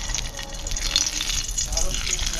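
Eggplant pieces drop into hot mustard oil in a wok, giving a steady close crackling sizzle that fills the whole short stretch without pause.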